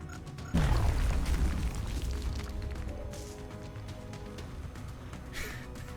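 A frag grenade goes off in XCOM Long War, a loud close boom that hits hard and then trails into a long rumbling decay under ambient game sound.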